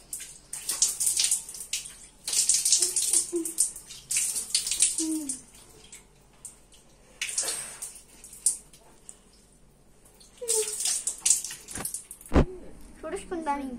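Running water splashes in bursts as someone washes, stopping and starting in several short spells with quiet gaps between them, and a person talks in between.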